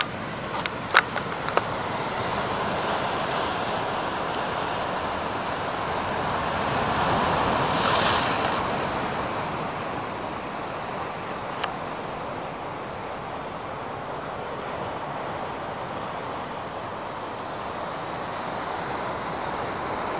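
Sea waves wash steadily against a seaside shore under gusting wind, a continuous broad roar that swells briefly midway, with a few faint knocks and no voices.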